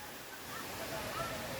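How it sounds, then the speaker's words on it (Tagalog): Fresh water rushes steadily on a nature walk, a continuous broadband roar heard from a short distance, with no clear talk over it. "Naririnig nyo na ba yung lagunas ng tubig?"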